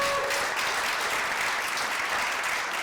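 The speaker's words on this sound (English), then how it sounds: "Let's give these ladies a round of applause." Attendees at an Oregon Opt In convening applaud a group of women, a steady, fairly distant wash of clapping with no talk over it.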